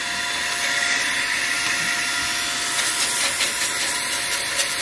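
A Brigii M1 handheld vacuum blower runs steadily, a loud close whine and rushing airflow with a constant motor tone throughout, and nobody speaks.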